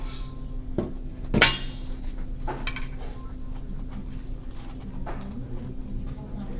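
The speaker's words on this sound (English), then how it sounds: "Okay, so she's cutting the stem off first." A knife cuts the stems off patra leaves on a kitchen surface, producing a few sharp clacks and taps, one louder strike near the start, against a quiet room hum with soft speech nearby.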